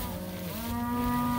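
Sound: cattle mooing

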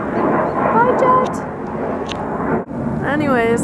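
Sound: jet airplane flying overhead

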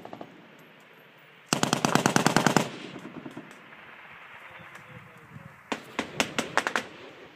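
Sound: gunfire in a firefight with the Taliban

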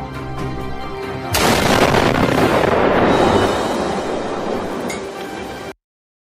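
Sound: explosion destroying a Chuck E. Cheese's restaurant

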